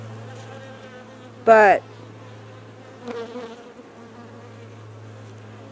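Honey bees hum in a steady, close drone during a top bar hive inspection, with a couple of brief louder buzzing passes. A voice speaks a single word.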